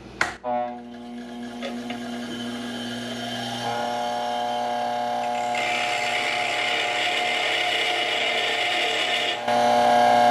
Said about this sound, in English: I'm going to throw on the grinder here and just take a little bit off the tip just to make it a little bit shorter